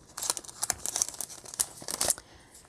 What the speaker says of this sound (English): then we'll just go ahead and put it in our cellophane